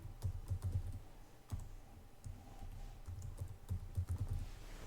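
Password being typed on a computer keyboard during a Linux desktop install, with bursts of quick, close keystrokes separated by short pauses and no talking.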